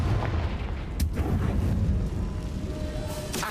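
A blasting-spell explosion in a video game bursts with a sharp crack, followed by a rumbling boom and debris, with another sharp burst near the end.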